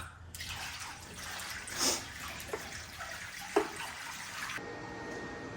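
Water pours and splashes steadily into the tank of a CNC plasma table, a continuous rushing fill with a few small knocks, fairly faint, stopping abruptly near the end.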